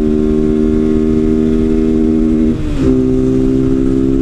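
A Honda Titan 160 motorcycle engine fitted with an air filter holds a loud, steady rev, dips briefly as it shifts into third gear, then settles back to a constant drone.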